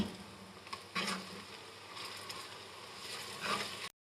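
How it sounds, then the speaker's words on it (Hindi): Lightly browned onions frying with ginger garlic paste in oil, stirred now and then, give a soft steady sizzle with a few brief scraping bursts; fairly quiet and close, with no talking. "प्याज हमारे लाइट से ब्राउन हो चुके हैं।"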